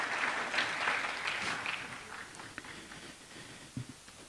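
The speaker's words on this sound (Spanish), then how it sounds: "Un aplauso para Diana María nuevamente en este reto" An audience at a Pereira mayor's announcement event applauds Diana María, a dense round of clapping that gradually thins out and fades toward the end, with a few scattered late claps.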